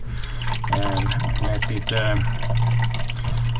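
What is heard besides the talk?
sailboat water maker running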